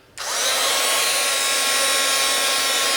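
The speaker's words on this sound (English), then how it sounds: "we're going to hit it for a little bit with a heat gun" Heat gun switching on and blowing onto a metal dowel rod, a sudden onset into a loud, steady airy whoosh with a high motor whine that holds without pause.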